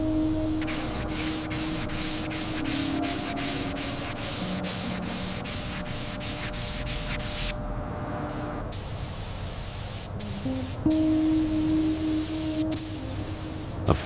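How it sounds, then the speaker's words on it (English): Body filler on a Plymouth Hemi 'Cuda is block sanded by hand in steady back-and-forth strokes, a close, rhythmic rasping that continues with a brief pause midway. "the rhythmic sound of block sanding, back and forth, until the curves are completely seamless to the touch"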